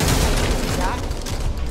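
Continuous heavy gunfire at an ogre in the Back 4 Blood co-op zombie shooter, a dense, loud, unbroken clatter of shots with a deep rumbling underlay, no pause throughout.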